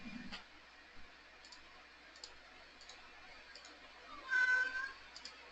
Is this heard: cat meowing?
yes